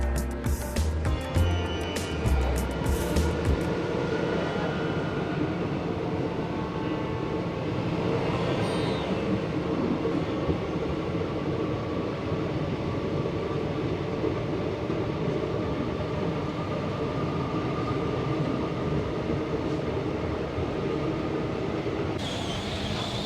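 Heard from inside the Chitrakoot Express passenger train on its way to Jabalpur, a steady loud rumble of the moving carriage with rhythmic rail clatter continues throughout.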